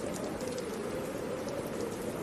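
Rain soaking open ground at night, a steady, even hiss of falling drops with no talk, dense and unbroken from start to finish.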